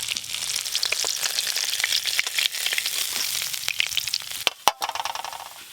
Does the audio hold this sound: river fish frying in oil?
yes